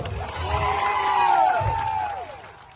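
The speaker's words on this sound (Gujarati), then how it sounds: "પોલીસ માટે એકવાર જોરદાર તાળીઓ પાડી લો" A rally crowd claps and cheers for the police, a swelling wash of applause with a few whoops that rises, holds and then fades out.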